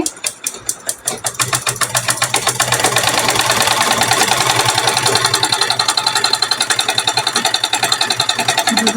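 A sewing machine stitching fabric with the seam allowance just under half an inch, a few slow separate stitches and then a fast, steady, loud rhythmic chatter that continues to the end.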